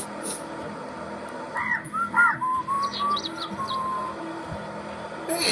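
Bird calls from the Stack The States video game, a few short caws and chirps with a thin whistled tone over a steady game background, fairly faint.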